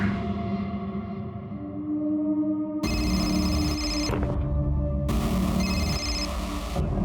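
A telephone rings in repeated electronic bursts, each burst lasting about a second, over a loud, dense background of music and noise.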